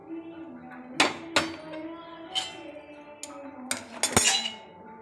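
Roasted lentils being tapped out of a pan into a metal vessel, giving a series of sharp metallic clinks and knocks spaced irregularly, fairly close, with faint talking in between.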